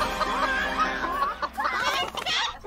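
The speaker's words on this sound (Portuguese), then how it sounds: "Eles viraram galinhas!" Clucking from animated characters turned into chickens in the Brazilian cartoon Sítio do Pica Pau Amarelo, a busy run of close, bright, overlapping clucks with no other sound.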